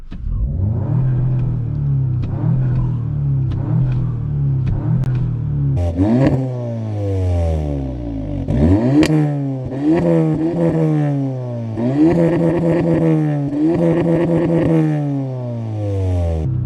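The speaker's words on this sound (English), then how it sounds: "So I'll give it a couple revs now." An Audi S3 engine with a Stage 1 tune revs repeatedly, the pitch climbing sharply then falling back each time, loud and close with a rough mechanical edge.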